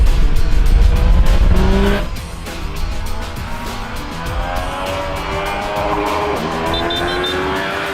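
A Yamaha Tracer 900 GT sports-touring motorcycle rides at a racetrack: a loud, close engine roar that drops after two seconds, then climbs in pitch as it accelerates.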